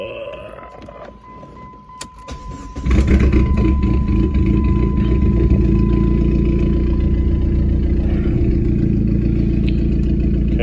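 A car engine cranks and starts about three seconds in, then settles into a steady, loud idle that runs to the end, with a faint electronic tone beforehand.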